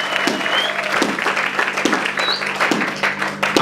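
Church congregation applauding, a steady, close wash of many hands clapping together, loud throughout, with a few voices mixed in.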